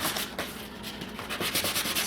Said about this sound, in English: never liked sanding surfboards.